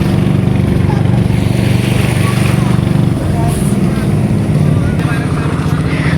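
A small fishing boat comes in from sea, its motor droning loud and steady throughout, with faint voices behind the engine.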